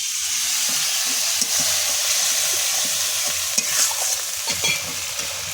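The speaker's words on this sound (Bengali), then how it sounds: "আদা জিরে মশলাটা কিন্তু কষানো হয়ে গেছে, খুব সামান্য একটু জল দিয়ে দিলাম" A small splash of water hits ginger-cumin masala frying in a pan for a fish-head moong dal, setting off a steady, loud broadband sizzle with a few stirring clinks. It carries on alone, with no talking.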